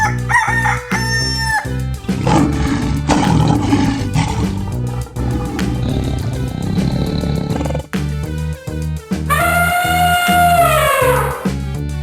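Animal calls ring out over music, a rooster crowing and a big cat's roar among them, each loud and distinct.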